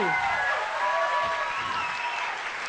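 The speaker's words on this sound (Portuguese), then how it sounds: "Palmas para Oscar, que quer jogar." Studio audience at an improv comedy show applauding comedian Oscar Filho, a loud, dense burst of clapping with some cheering, while a voice speaks briefly over it.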